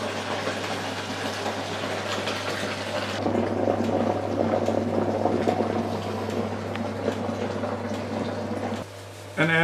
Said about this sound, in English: So let's transfer the wort into the fermenter.